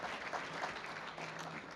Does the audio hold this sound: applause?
yes